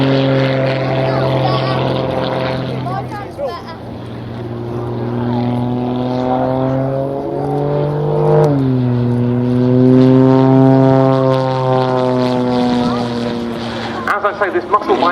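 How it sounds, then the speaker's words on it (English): A highly modified muscle biplane roars through aerobatics at the RAF Cosford Airshow, its engine and propeller note rising and falling in pitch as it manoeuvres, heard loud under an announcer's commentary. "This muscle biplane, very highly modified indeed."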